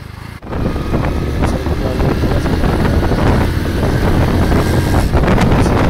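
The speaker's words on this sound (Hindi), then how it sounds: "हवा भी बहुत तेज़ चल रही है" Strong wind buffets the microphone during a bike ride, a loud, continuous roaring rumble with a brief dropout near the start.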